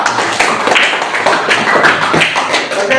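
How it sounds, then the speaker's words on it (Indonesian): A classroom of students claps for a presenting group, a dense run of close hand claps that keeps going steadily, with no talk over it. "Tepuk tangan buat kelompok 2."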